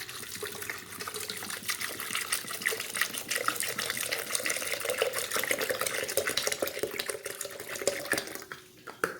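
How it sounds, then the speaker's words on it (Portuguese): Water pours steadily into tamarillo pulp in a container for juice, a continuous close splashing and trickling stream that runs for several seconds and tapers off at the end, with no talk. "Agora a Simone vai colocar água."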